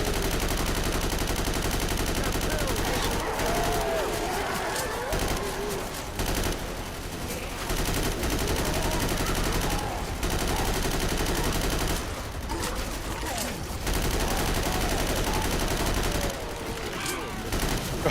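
Rapid rifle gunfire in a survival video game, repeated bursts of shots and loud automatic fire with brief pauses, dense and continuous over several seconds, with a voice occasionally underneath.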